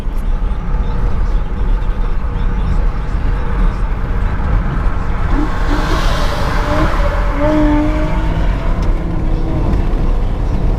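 A 2014 Jeep Grand Cherokee with the 5.7 liter V8 and ten-speed automatic accelerates hard, a loud sustained engine roar and road rush that holds steady throughout, with a faint rising whine near the end.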